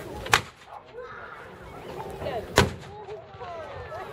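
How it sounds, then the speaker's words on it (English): Two loud gunshot blasts from a military gun fired at an outdoor vehicle show, about two seconds apart, with crowd chatter and background noise between them. "the firing guard never stands behind this weapon when it's being fired"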